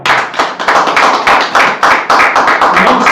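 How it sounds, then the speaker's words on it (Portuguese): A church congregation claps loudly together in a steady, driving rhythm, the dense close hand claps filling the whole stretch. "Uma salva de palmas"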